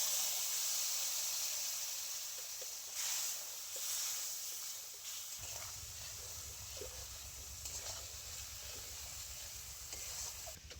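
Spice paste and water sizzle loudly in a hot pan while fish is cooked with raw mango, a steady hiss with bursts of crackling as liquid hits the oil and bubbles underneath.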